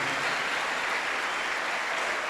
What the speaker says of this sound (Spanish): Denle fuerte su aplauso a Jesús.